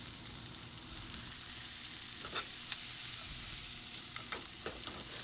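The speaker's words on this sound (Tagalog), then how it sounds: "Stir fry po lang natin" Red onion and vegetables stir-frying in a pan, a steady broadband sizzle running throughout with a few brief scrape-like stirring sounds, close and moderately loud with no talking.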